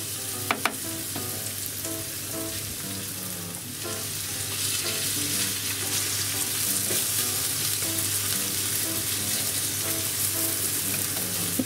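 Thinly shredded potato spread over a frying pan with sausage cooks over medium-low heat, giving a constant, even sizzle and crackle up close, with a couple of brief utensil clicks near the start and no talk.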